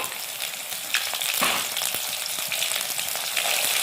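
Garlic and ginger-garlic paste frying in a pan give a dense, continuous hissing sizzle with occasional crackles and soft stirring scrapes, close and steady without any voices.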